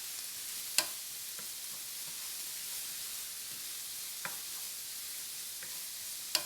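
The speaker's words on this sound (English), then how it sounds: "we're only going to saute these just for a couple of minutes." Vegetables sauteing in a pan over small-to-medium heat, a soft, even sizzle and hiss with a few sharp clicks and light stirring taps, no talking.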